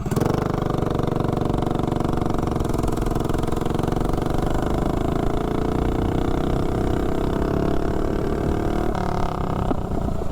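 Mini bike engine running 20% VP nitro fuel, a loud buzzy single-cylinder drone rising steadily in pitch as it accelerates, close and continuous with no talk.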